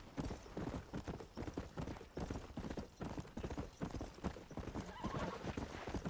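Horse hooves in Red Dead Redemption, a dense, continuous clip-clop of galloping with a whinny near the end, loud and close throughout.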